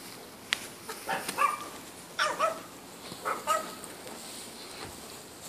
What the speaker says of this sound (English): Soundtrack by my dogs.